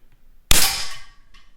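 A single sharp shot from a Beeman P17 air pistol, with a pellet striking a metal target, gives a loud close crack and a ringing metallic decay, followed by a faint click.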